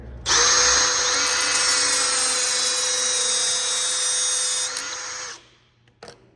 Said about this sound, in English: I'm gonna use a little cutoff wheel here.